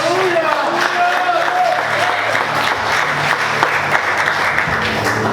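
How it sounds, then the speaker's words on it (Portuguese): A church congregation applauds through a sermon, producing a dense, steady wash of clapping throughout, with a voice and music-like tones audible underneath. "Aplauda o Senhor, querido."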